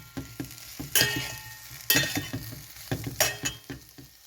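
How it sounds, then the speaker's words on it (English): Potatoes in spicy masala for bhaji are stirred in a hot pan, with a steady sizzle broken by several sharp scraping stirs and clinks of the spoon, close and fairly soft, with no talking. "So now I'm going to add my potatoes. I'm going to mix it very well."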